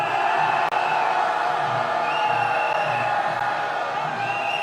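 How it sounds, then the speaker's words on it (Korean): A large street crowd of protesters at a march in Yeouido shouts a sustained collective cheer calling for President Yoon Suk-yeol's impeachment, a dense, steady roar that holds loud throughout with no break. "윤석열 탄핵의 함성 한번 질러보겠습니다"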